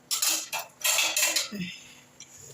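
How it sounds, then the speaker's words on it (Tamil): Several sharp metallic clanks and scrapes of a lid settling onto a pot of egg kurma, close and loud, followed by a quieter rattle. "இது ஒரு மூடி போட்டு மூடிடுறேன்."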